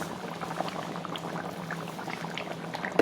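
A pot of sweetened food bubbles at a steady, low boil, a soft continuous burble that is quiet and close, with no talking.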